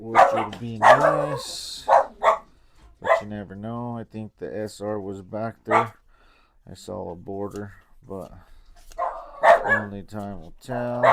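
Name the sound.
dogs barking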